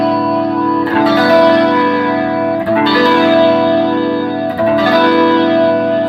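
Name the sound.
guitar through Source Audio Gemini Chorus pedal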